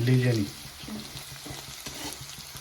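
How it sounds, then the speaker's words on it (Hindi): Onion, garlic, ginger and green chili fry in a pan for baingan bharta, giving a steady sizzle with occasional stirring scrapes after a brief louder burst at the start, close and moderately loud. "तो देखिए प्याज हमारा भुन रहा है, इसे लगातार चलाते रहिएगा।"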